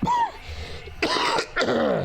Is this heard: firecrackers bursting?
no